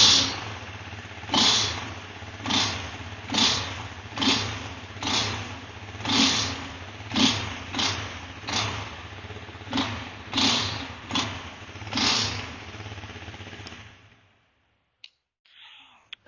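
A motorcycle engine revs in a series of about a dozen rhythmic blips over a low steady idle, each throttle burst rising and falling at close range before the engine cuts off and falls silent.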